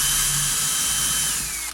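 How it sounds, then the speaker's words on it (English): A power drill bores holes into a wooden box for a role-play build, one steady high whine held close and loud for nearly two seconds before winding down, no voices. "You're going to want to drill 2 holes in the middle of these."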